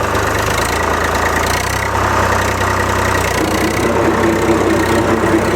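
A Swaraj 735 tractor engine runs steadily in first low gear while pulling a Param sugarcane weeder in a field, giving a continuous loud low rumble with a slight knocking texture and no talk.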